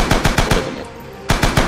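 Rising Storm video game machine gun fires two rapid bursts of about four loud, sharp shots each, separated by a brief pause, with no voices over them.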